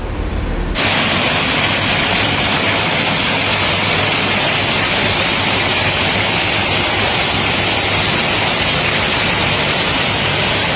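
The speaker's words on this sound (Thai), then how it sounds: "แล้วก็เป็นน้ำตกจำลองนะคะ บรรยากาศดีมากเลยค่ะ" An artificial waterfall beside a fish pond in a temple garden at Si Racha pours in a loud, dense, steady hiss of falling water that starts abruptly and continues unbroken, heard close up with no talking.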